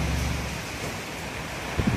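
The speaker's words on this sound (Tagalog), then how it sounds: "dami ang ulan. Oo, nag-start na ang ulan dito" Steady, dense hiss of heavy typhoon rain in Iloilo City, Philippines, fills the whole moment, a constant wash of noise with no voices and only a small bump near the end.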